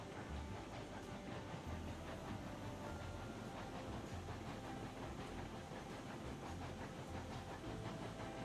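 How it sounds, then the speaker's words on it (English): A locomotive in the train game Railroads Online rumbles steadily as it coasts downhill at half speed, a dense continuous mechanical roar with faint clicking and hiss throughout, no voices. "we just gotta listen to the engine, try and find that good coasting speed downhill"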